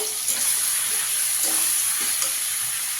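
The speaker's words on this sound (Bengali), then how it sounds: "চিকেনটা এই যে হালকা করে একটু ভাজা হয়ে গেছে" Chicken pieces sizzle and crackle steadily in a hot pan, with occasional stirring scrapes, close and fairly loud, no voices.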